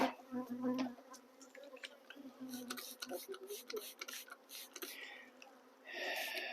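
Bees buzz inside a box as it is moved, a close, wavering insect drone mixed with quiet rustling and handling noises.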